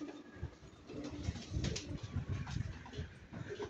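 Pigeons cooing softly in low, throaty repeated calls, with rustling and fluttering nearby and no talking.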